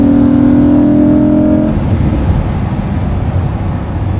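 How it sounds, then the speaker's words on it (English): Lamborghini Huracan V10 with a Supersprint exhaust in Corsa mode, valves open, giving a loud, steady, throaty engine drone that eases off partway through into a lower rumble, heard up close without talk. "that's Corsa, so that little bit louder with the valves open"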